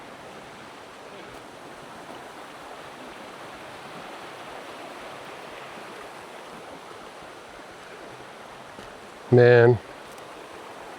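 Bluff Creek flows in a steady, even wash of water that fills the whole stretch, with a brief loud spoken word near the end.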